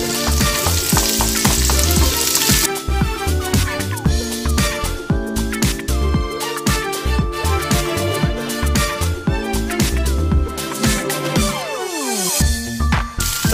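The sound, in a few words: onion frying in a pan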